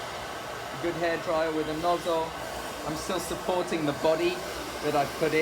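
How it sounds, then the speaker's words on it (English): A hair dryer with a nozzle blows steadily while hair is smoothed with a real bristle brush, a continuous airy whoosh under someone talking throughout. "a good hair dryer with a nozzle"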